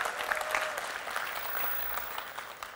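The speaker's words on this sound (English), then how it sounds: "Big applause again." A crowd applauding at a Google-hosted talk, continuous clapping from many hands with a few sharper individual claps near the start, holding steady and alone without speech.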